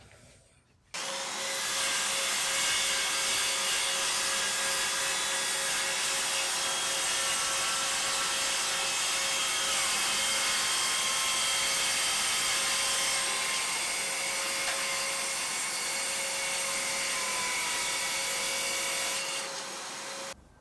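A Parkside cordless circular saw, fitted with a nearly new blade, cuts through a sheet of MDF, its loud steady motor whine and rasping bite holding for about eighteen seconds before the blade spins down.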